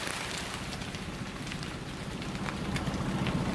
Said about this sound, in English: Yep, it's totally raining.